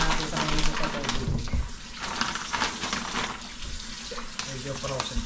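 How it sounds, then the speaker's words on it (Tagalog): Tap water runs and splashes over frozen meat being rinsed in a kitchen sink, a continuous close gush with clattering, under light background activity. "Babagsan muna natin sa mga sa tubig."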